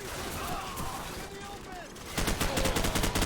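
Gunfire in the video game Call of Duty 4: Modern Warfare: a steady wash of distant shooting swells into a dense, rapid burst of automatic fire near the end.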